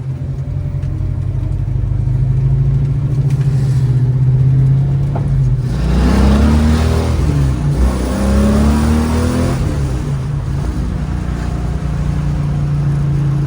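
A 1970 Dodge Challenger convertible with a 408 stroker engine rumbles loud and close, with deep exhaust drone throughout and a surging rev that climbs and falls midway before settling back to a steady throaty idle.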